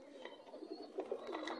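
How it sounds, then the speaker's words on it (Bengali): Pigeons in a loft coo softly in overlapping low murmurs, with faint chirps and rustling throughout a short, quiet stretch. "বাজি কবুতর"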